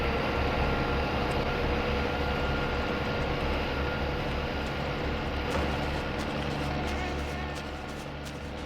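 In My Summer Car, an engine holds a steady revved drone at about 1500 RPM while it drives a pump. The dense, even roar runs throughout and eases slightly near the end.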